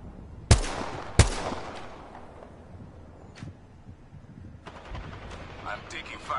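Gunfire in Apex Legends: two sharp, loud shots close together, then scattered fainter shots and a quick burst, with voices in the background.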